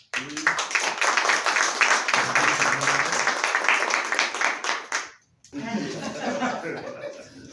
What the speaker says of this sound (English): If you give him a round of applause, please.